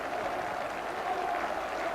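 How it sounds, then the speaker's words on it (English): Football crowd at Oldham Athletic versus Blackburn Rovers in 1990, applauding: a sustained roar of many hands clapping across a stadium, broad and steady, with faint crowd voices mixed in. "He's coming over to stand and applaud the Blackburn Rovers fans who have cheered his team to a famous point"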